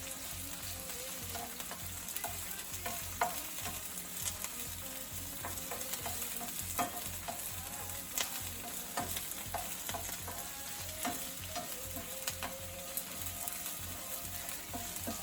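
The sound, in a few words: sautéing vegetables and Scotch bonnet pepper in a pan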